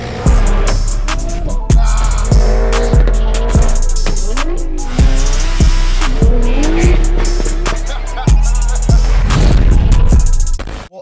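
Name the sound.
BMW F80 M3 launch control start at 4,000 RPM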